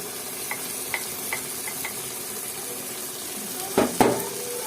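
Dried fish frying with onions and a blended spice paste in a pan, a steady sizzle with a few light clinks of a stirring utensil and a louder scrape near the end.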